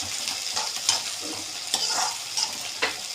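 Large chopped onions are stirred and fried in a pan with a close, steady sizzle. Repeated scraping strokes of a spoon against the pan come every half second or so.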